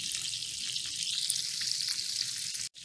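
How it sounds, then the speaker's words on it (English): French toast frying slowly in a pan, a steady close sizzle and crackle that runs without a break and drops out abruptly just before the end. "we're going to cook the French toast 4 to 5 minutes on both sides until you get a nice little brown"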